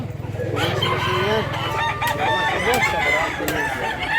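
Gamecocks at a sale in Mantalungon, Cebu, a nearby rooster crowing in a long, loud call with clucking and other birds around, as people talk in the background.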